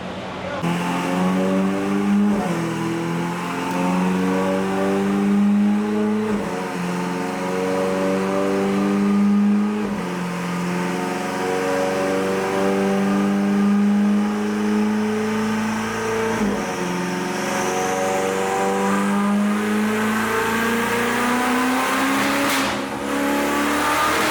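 Ferrari 488 GTB fitted with upgraded Pure turbos runs hard on a dyno, its twin-turbo V8 droning loud and steady through repeated rising pulls, with brief dips where revs fall and climb again.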